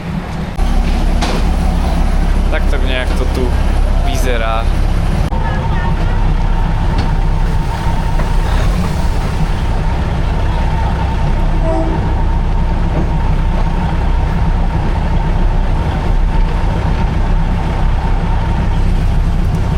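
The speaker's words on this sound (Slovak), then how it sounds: "Už mi prišiel vlak." A train arrives and runs in Bangkok, a loud, continuous rumble with a steady mechanical hum and rattling that fills the whole stretch, with someone speaking briefly near the start.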